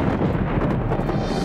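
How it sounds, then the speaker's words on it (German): Cartoon thunderstorm thunder rolls as a continuous low, loud rumble filling the whole moment, with no voices over it. "Oh, ein Gewitter."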